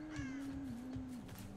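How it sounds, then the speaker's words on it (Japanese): Crows caw inside the Dead by Daylight video game, a few harsh calls sounding at moderate distance over a steady game-ambience drone, with no talking. "カラス、"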